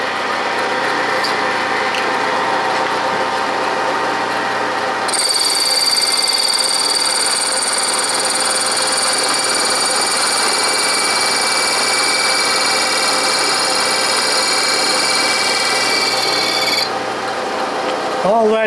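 A metal lathe cuts a slit in a small steel rule holder, giving a steady mechanical whine and hum with a brighter, harsher cutting tone for about ten seconds in the middle, close up with no talking.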